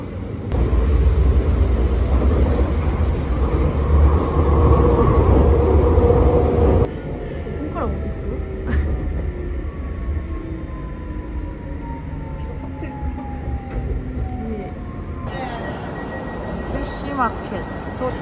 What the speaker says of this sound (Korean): 트램 타고 왔어요.